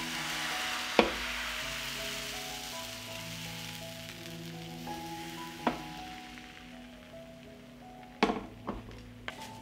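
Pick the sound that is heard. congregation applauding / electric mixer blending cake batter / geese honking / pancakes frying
pancakes frying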